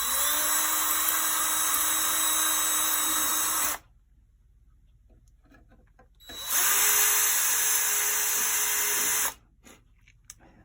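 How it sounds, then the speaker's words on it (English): Two loud runs of a power drill as bits widen holes in the brass plate of a 1930s–40s New Haven Art Deco clock. Each whine spins up and holds steady for a few seconds, separated by a quiet pause. "What I'm going to do next is gradually widen the holes with increasing larger drill bits."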